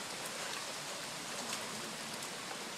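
Heavy rain pours down in a dense, unbroken hiss of drops hitting surfaces, steady and even throughout, moderately loud with no voices.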